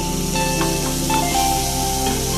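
Water is poured into a pan of cooking tomatoes, giving a short burst of close hissing spray and sizzle that fades over a couple of seconds.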